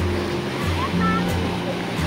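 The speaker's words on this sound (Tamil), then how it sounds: "பாரு அலை அடிச்சு தண்ணி வந்து" Ocean waves break on a beach shore as a constant loud rushing wash, with people's voices faintly mixed in beneath the surf.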